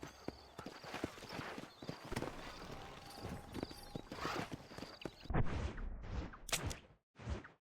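Hooves of a horse in the video game Red Dead Redemption clip-clop steadily under dense ambient noise, then a few louder, closer bursts of movement and a whinny-like sound near the end before it cuts out.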